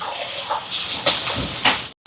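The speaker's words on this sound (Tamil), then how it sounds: "பச்சை மிளகாய், வெள்ளைப்பூடு, வெங்காயம். இப்போ இதெல்லாம் நல்லா வதங்கட்டும்." Green chilli, garlic and onion sauté in a hot pan, giving a steady hissing sizzle with a few louder crackling bursts, then cutting off abruptly near the end.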